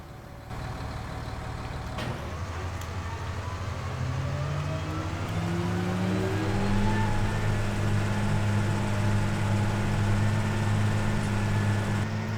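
A 225-horsepower tractor mowing in a farming video game: a steady engine drone that builds gradually and stays loud and continuous, with no talk.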